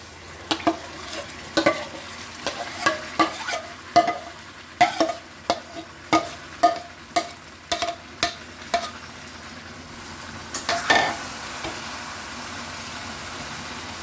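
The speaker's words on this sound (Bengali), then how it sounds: "বন্ধুরা, ক্যারামেলের সাথে আমটা ভালো করে মিশিয়ে নিয়েছি।" A spoon scrapes and knocks steadily around a pan as raw mango pulp is worked into caramel, about a dozen rhythmic strokes over a soft sizzle, ending in a longer scrape, close by.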